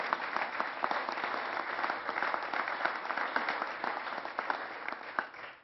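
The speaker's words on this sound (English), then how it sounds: "Go ahead, you can clap for that, Val." Applause from the audience at a governor's State of the State speech, dense sustained clapping filling the hall for several seconds before tapering off.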